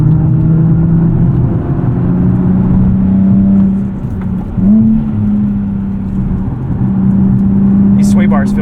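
A 2012 Nissan 370Z with a 6-speed manual accelerates in loud cabin engine drone, pitch climbing steadily with short dips at gear shifts, while a driver talks over it.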